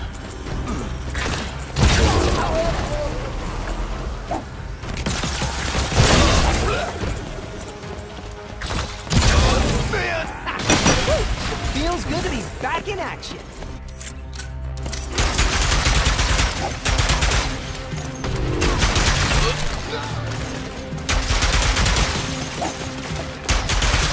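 Heavy weapons fire in Ratchet & Clank: Rift Apart, with dense continuous volleys, blasts and mechanical clatter throughout, loud and busy with no pause.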